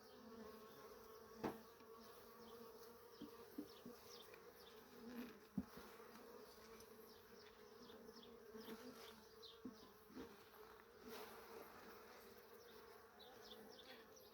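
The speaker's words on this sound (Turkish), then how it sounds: "Gördüğünüz gibi arı gayet" Steady, dense buzzing of many Carniolan honeybees close by at a hive, a continuous hum with occasional soft knocks and brief louder passes.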